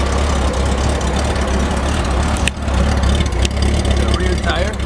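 1995 Honda Goldwing GL1500 motorcycle with 59,400 miles idling close by, a steady low rumbling hum with a brief dip midway, while someone talks over it.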